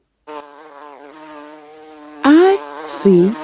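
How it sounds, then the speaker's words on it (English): A bee's buzzing sounds as a tonal, cartoonish drone with a wavering, gliding pitch, followed by a few louder, sharper buzzing bursts near the end. "I see a bee."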